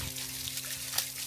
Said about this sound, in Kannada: ಮತ್ತು ನೋಡಿ ಇನ್ನೊಂದು ಕಡೆ ನೀರು ವೇಸ್ಟ್ ಆಗ್ತಾ ಇದೆ.